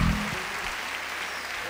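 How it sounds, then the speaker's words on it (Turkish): Applause for the jury at a folk dance competition: a brief burst of crowd clapping, dense and steady at moderate loudness, with a low hum beneath it. "Yani onlara da bir alkış, çünkü şu anda karar veriyorlar."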